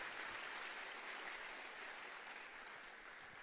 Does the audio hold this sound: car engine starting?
no